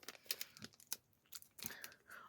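A sparkly little plastic bag holding a small spoon is torn open and handled, giving quiet crinkling, rustling and tearing bursts that come close and irregular, with a pause in the middle.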